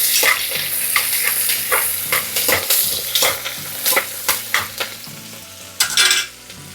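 Sliced onions and curry leaves sizzle in a pan for a village-style Rayalaseema mutton curry, while a spoon scrapes and stirs in a steady rhythm of close, loud strokes.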